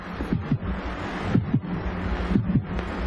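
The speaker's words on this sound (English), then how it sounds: "I can hear my heart beating." A slow, steady heartbeat, each beat a soft low double thump, repeating about once a second over a faint background hum.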